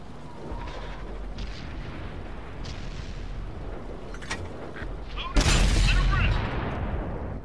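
Tank cannon fire from the SU-122-44 tank destroyer in World of Tanks, a sudden loud boom near the end that rings out over a steady low engine rumble, with faint earlier thuds.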